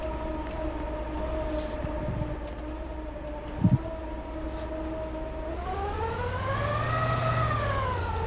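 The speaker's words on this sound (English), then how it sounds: "We got like two trains together. Milky's train and my train." Trains running together on a BNSF line in Roblox, a steady low engine rumble with sustained horn-like tones that rise and bend toward the end, plus a brief clank midway; no talk.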